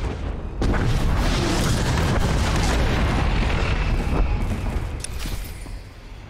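Imperial bombers strike a facility in Star Wars: The Old Republic, unleashing a sudden, heavy barrage of deep booming explosions that merge into a continuous rumbling roar before tapering off.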